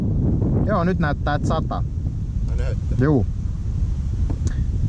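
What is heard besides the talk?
wind blowing during a fishing trip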